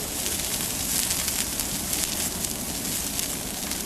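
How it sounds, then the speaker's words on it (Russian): Campfire branches crackling at an outdoor festival, a dense continuous hiss and snap that fills the air loudly and steadily, with no voices standing out. "ветки трещат."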